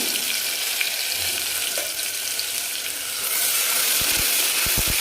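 Ground ginger, garlic and green chili paste with curry leaves frying in a pan for a Gujarati-style yogurt kadhi, a steady close sizzle that swells louder halfway through, with a few soft knocks near the end.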